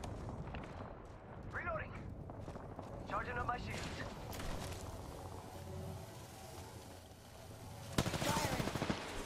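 Gunfire from another team in Apex Legends crackles in bursts and rapid volleys, moderately distant, mixed with game sounds while a player talks over it.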